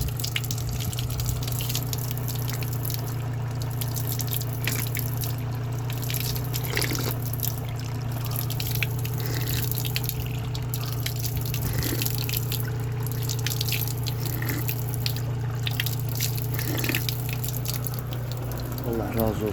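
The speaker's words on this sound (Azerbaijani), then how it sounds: "indi hal-hazırda şəhərimizin bulağındayıq" Water flowing and dripping at a town spring in Nakhchivan, a steady trickle heard alongside a persistent low hum and background activity, with occasional faint voices.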